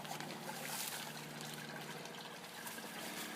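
Water from a grow-out pond trickling and draining into a 55-gallon drum, a steady soft splashing stream heard up close with no voices.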